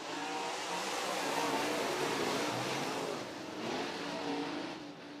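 Modified race cars at the East Bay WinterNationals surging together at the green flag, a loud dense engine roar that builds and holds, with faint distant voices underneath.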